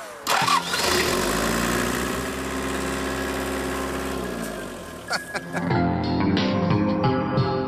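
A battered Toyota pickup truck's engine cranks briefly, catches and roars to life, then runs loudly with a steady idle before a few uneven revs.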